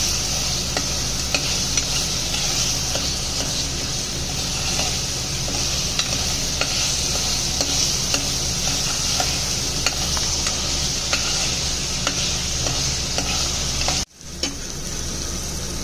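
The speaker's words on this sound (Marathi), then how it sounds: "छान तेल सुटायला लागलंय, तरी अजून थोडं परतून घेऊया" Spice paste sizzles in bubbling oil in a pan for soybean bhaji, with a constant close frying crackle, light ticks of stirring, and a brief break near the end.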